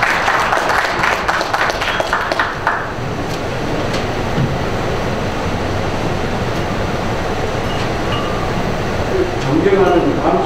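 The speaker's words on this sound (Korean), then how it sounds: "뜨거운 박수 부탁드리겠습니다" Steady, dense applause from an audience at a merchants' association president's inauguration ceremony in Wangsimni, Seoul, a continuous wash of clapping heard alongside some voices.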